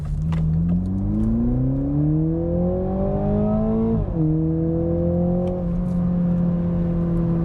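A 2021 Toyota Supra with the 2.0-liter four-cylinder accelerates hard, its engine note climbing steadily in pitch through one gear, dropping sharply at a shift, then pulling again, loud and close with no talking.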